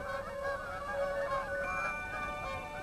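Geese honking in a flock, overlapping nasal calls held steadily and moderately close, with no talk.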